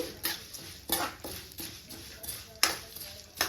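A spatula scrapes and clinks in a pan while fenugreek seeds and spices fry for moringa leaf chutney, with quiet irregular knocks and stirring strokes a few times a second, close and fairly soft.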